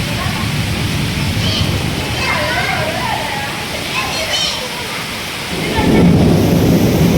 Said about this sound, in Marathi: आता विजांचा कडकडा सुरू झाला